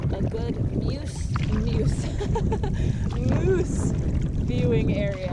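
Canoe paddling on a lake in Algonquin: a steady wash of water and wind noise running throughout, with someone talking over it.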